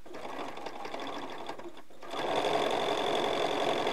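A sewing machine stitches along marked lines on quilt pieces, its rapid mechanical whir running close and steady, briefly pausing before resuming louder and denser for the rest of the stretch.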